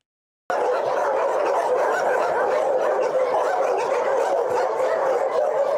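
A pack of shelter dogs barks nonstop at arriving visitors, with overlapping yaps and yips forming a dense, loud, close chorus.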